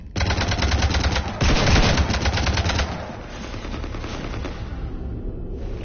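Rapid automatic gunfire in a video game, sustained bursts rattling loudly for a few seconds, then giving way to a quieter, rumbling battle ambience.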